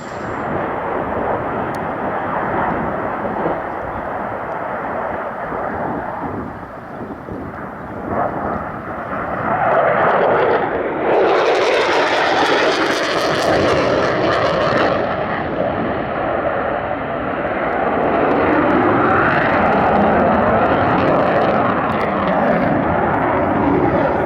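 A Eurofighter Typhoon jet performing an air display manoeuvre at Duxford roars loudly and continuously, swelling into a harsher, brighter blast midway before settling into a sustained rumbling thrust.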